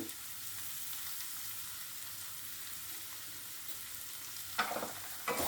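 Onions fry in a pan as turmeric powder is stirred in, a steady soft sizzle near the mic, broken near the end by a couple of louder scraping stirs of the spatula, no voices.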